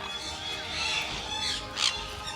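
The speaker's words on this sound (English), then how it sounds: "So these birds are definitely not scared of you, especially if you have some food." Colourful birds at a safari park squawk loudly and harshly at close range while being fed sunflower seeds, several overlapping calls over a busy outdoor background.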